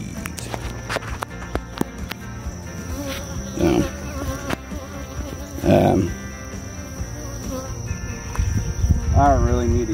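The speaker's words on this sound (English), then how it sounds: "Bees." Honeybees swarm around an opened backyard hive during an inspection, a steady buzzing drone with sharper passes as individual bees fly close to the microphone, while muffled handling noises come and go.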